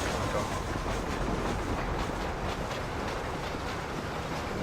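A passing train in the western game Red Dead Redemption rumbles loud and close, a steady, dense roar with faint rhythmic clatter running the whole time.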